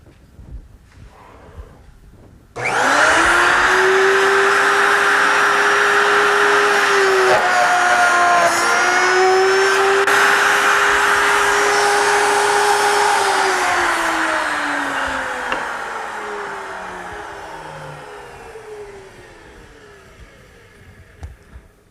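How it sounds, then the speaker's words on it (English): A stationary router spins up sharply and cuts wood for biscuit joints, a loud steady whine holding for about twelve seconds with a slight dip in pitch partway through, then slowly winding down. Up close, with no talking. "This is the setup for making the plate joints or biscuit joints with a stationary router"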